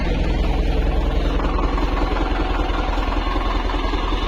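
A big diesel engine of a large tractor at an agricultural exhibition idles steadily with a deep, throbbing chug, close and loud, running without a break.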